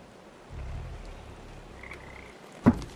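Frogs croak in the video game Papo & Yo, a low throaty croak early on and a sharp, loud croak near the end, set over quiet ambient game noise.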